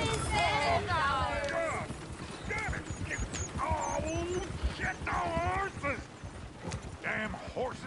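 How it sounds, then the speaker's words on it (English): Horses clip-clopping and whinnying in a rural yard in Berryville, with steady hoofbeats and occasional neighs under a continuous stream of people talking. "Damn horses!"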